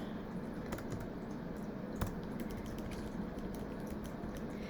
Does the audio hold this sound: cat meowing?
no